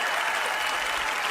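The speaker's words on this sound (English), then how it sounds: "Everyone give Barbara a huge round of applause" A studio audience at a Penn & Teller magic show claps in a dense, sustained burst of applause, loud and close throughout.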